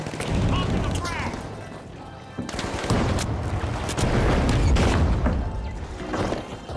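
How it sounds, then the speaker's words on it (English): Heavy booms and bursts of gunfire in The Finals shooter game, with a deep frag grenade blast rising among chaotic combat noise and voices talking throughout. "Popping the frag!"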